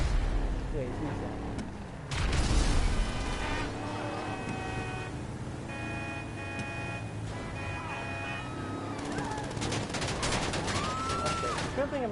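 Gunfire strikes an armored Duke O'Death car in GTA 5 Online, with a heavy burst early on, then sustained rattling shots and engine noise that run throughout under game sounds.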